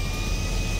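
An airplane roars through a bad landing on a short runway among hills in GTA 5, with a steady engine drone and rumble throughout and no talk.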